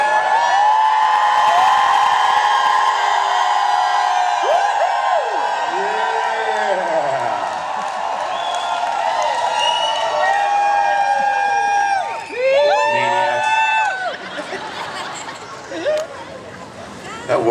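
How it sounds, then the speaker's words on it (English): Interview audience screaming and cheering wildly, a loud dense roar of many voices with shrill wavering shrieks and whoops rising and falling, easing off briefly midway before surging again toward the end. "can you guys scream like crazy people?"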